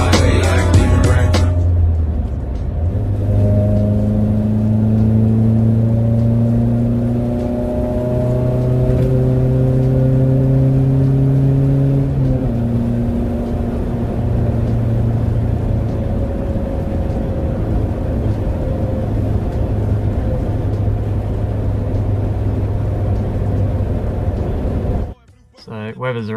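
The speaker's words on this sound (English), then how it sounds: "As you can see in the video, I was sort of just lightly on and off the throttle and it was responding to it." A car engine fitted with Weber carburetors idles loudly and close, then rises and falls with light throttle blips before settling back to a steady idle, and someone talks over it.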